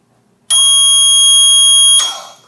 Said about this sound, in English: this backup float alarm still engages the bilge pump